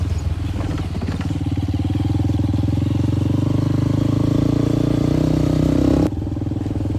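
Motorcycle ridden along a rural village road toward a remote hamlet, its engine droning steadily and loud at close range for about six seconds with a slight rise in pitch, then cutting to a lower, rougher rumble at the end; no talk.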